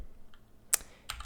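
Computer keyboard typing, a few sharp isolated keystrokes, quiet and close, with gaps between clicks and no talk.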